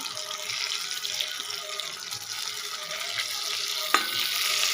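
Fish pieces frying in a pan for a fish curry, giving a soft, continuous sizzle with light crackles and one sharp tap near the end, close by and with no voices.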